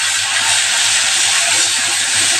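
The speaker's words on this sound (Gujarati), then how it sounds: "હવે એ ઉમેરી દઈશું એને સરસ આપણે સાતળી લઈશું" Ginger, chili and garlic paste sizzling in hot oil in a pan, a loud, steady, close hiss with no breaks and no voices.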